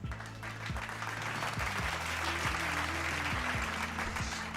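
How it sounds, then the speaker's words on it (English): Applause, a dense wash of clapping at moderate level running throughout, over a low tonal background hum. "all I gotta say is clap it up first"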